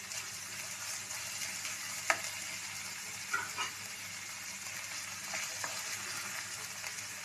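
Onion and ginger garlic paste fry in a pan with a steady, fairly quiet hiss and a few soft pops and stirring clicks.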